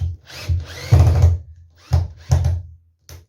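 A power drill driving 50mm screws into a wooden quarterpipe ramp: several short whirring bursts of varying length with pauses between, close and loud.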